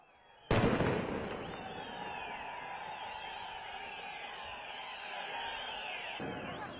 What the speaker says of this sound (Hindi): इस घर पर लगातार बम और गोलियों के जरिए फायरिंग कर रहे थे